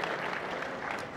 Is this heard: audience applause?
yes